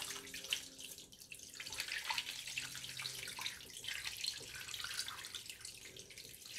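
Tap water pours into a pot to cover a corned beef brisket, a steady splashing rush with small dripping and clinking accents, close by and moderately loud, with no talking.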